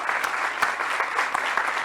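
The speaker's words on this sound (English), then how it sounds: "So I want an applause from all of you for Nacho Mateo" Audience applause at a legal tech venture day in São Paulo, a continuous, fairly loud wash of many people clapping, with sharper individual claps standing out at a loose, uneven rhythm.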